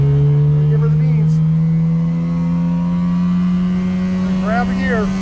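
A car pulling hard up a hairpin on-ramp, its engine a loud steady drone heard from inside the cabin, with rising revs near the end.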